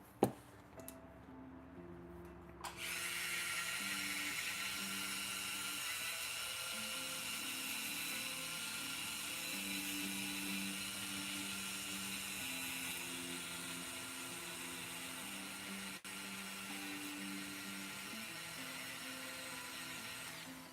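A steady, high-pitched power sander whines continuously for about twenty seconds on a painted Goku figure, starting after a brief quiet moment with a few clicks.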